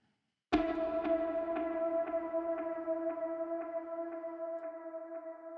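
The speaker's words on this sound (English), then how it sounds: "just used it as a drone" Looped synth lead drone built from two recorded lead notes: a single sustained tone with a faint pulsing echo repeating about every half second, steady and alone after a sudden onset.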